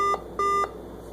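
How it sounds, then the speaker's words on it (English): A Chromebook system beep sounds off the OS verification screen: two clear electronic tones, a short one followed by a slightly longer one, alone over a faint hum. "you're going to get this kind of weird like system beep"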